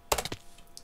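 A few quick keystrokes on a computer keyboard during a Minecraft parkour session, a short cluster of clicks near the start followed by quiet, played alone with no talk.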